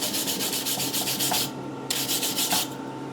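A wire brush scrubs rapidly back and forth over a fresh weld bead from a battery-powered welder, close and steady harsh rasping strokes with two short pauses, no talk.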